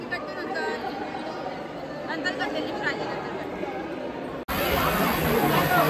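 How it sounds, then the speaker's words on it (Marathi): Dense crowd chatter at Saptashrungi temple near Nashik, many overlapping voices forming a steady close hubbub that breaks off briefly and resumes louder. "खूप गर्दी आहे इकडे."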